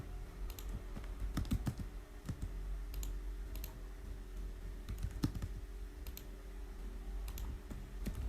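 Command shortcuts typed on a computer keyboard during a drafting session, heard as soft, close key clicks in small irregular clusters over a low background hum.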